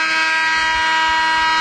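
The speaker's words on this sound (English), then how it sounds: "And there's that buzzer." Loud, sustained electronic buzzer sounding in an ice rink to end the first period of a hockey game between NAHA and Balmoral Hall, a steady harsh tone lasting the whole moment with no talk over it.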